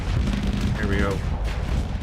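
Plasma torpedo explosions in the space combat game Starsector make a continuous, heavy low rumble of overlapping booms, with a brief voice heard partway through.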